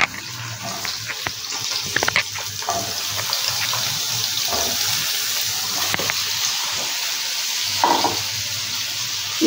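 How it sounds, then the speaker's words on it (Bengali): Ridge gourd pieces frying in a pan with green chillies, a continuous watery hiss and sizzle with occasional stirring clatter and scrapes, steady and fairly loud with no talking. "এর মধ্যেই এবার ঝিঙেগুলো দিয়ে দেবো।"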